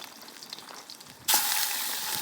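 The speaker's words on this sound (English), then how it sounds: "Listen to that. Woohoo! Sizzling, baby." Quiet room tone suddenly gives way to a loud, steady sizzle of lamb shanks browning in a hot pan during outback bush cooking, continuing strongly to the end.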